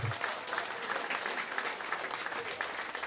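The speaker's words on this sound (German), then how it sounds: "Dein Applaus." Audience applause at an Oktoberfest event, a faint but continuous wash of clapping heard from a distance for about three seconds.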